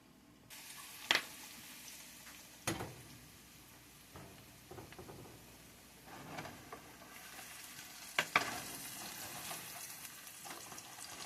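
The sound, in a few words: frying in Crisco with butter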